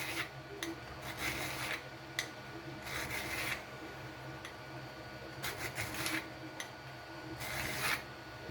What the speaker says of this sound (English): Get rid of the burrs again.